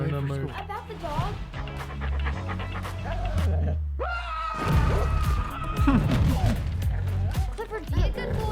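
Clifford the dog pants in quick, rhythmic breaths, close and fairly loud, with a few whimpery sounds, while people talk over and around him.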